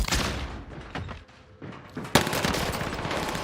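Rapid automatic gunfire in the Warzone battle royale game on the Caldera map, loud and dense bursts with a short lull before a sharp crack and renewed sustained fire.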